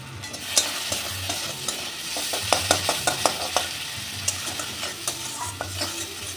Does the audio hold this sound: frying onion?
yes